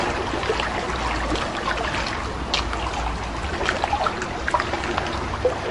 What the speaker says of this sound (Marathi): डॉल्बीच्या दणदणाटाऐवजी पाण्याचा खळखळाट ऐकू येतोय